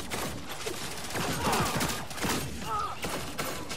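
Rapid gunfire in the video game Lawbreakers, a dense sustained stream of shots with mechanical clatter, moderately loud and continuous throughout.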